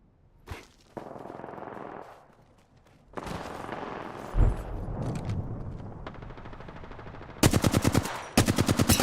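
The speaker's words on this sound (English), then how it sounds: "They're shooting at me." Automatic gunfire in an Apex Legends match, with sustained bursts of rapid shots broken by gaps, a heavy thud midway and loud rattling volleys near the end.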